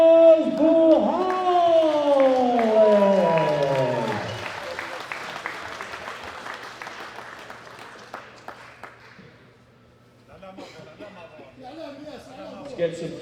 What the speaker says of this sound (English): with a new world record, a big round of applause